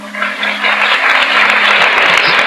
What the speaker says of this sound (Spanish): por favor, no me aplaudan